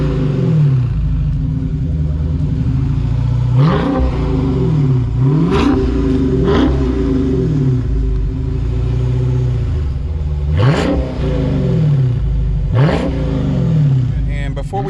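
A 2018 Dodge Charger 392 Hemi ScatPack with a 6.4-liter V8 revs repeatedly, its deep loud idle rumble broken by several sharp climbing blips that drop back down, heard close and alone.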